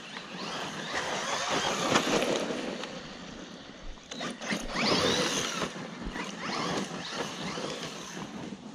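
MJX Hyper Go RC car on a 4S setup running across grass, a steady faint whir of the motor and drivetrain with rustling and ratcheting mechanical clatter, fairly distant and continuous.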